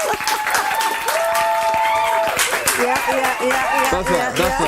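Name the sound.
studio audience applause welcoming talk show guest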